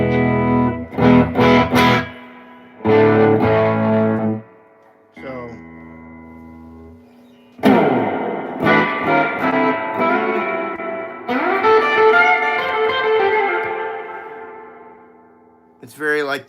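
Electric guitar played through a tube amp's spring-style reverb, loud bluesy phrases and sustained notes that bloom into a long decaying wash, with short gaps between passages and a quieter stretch midway.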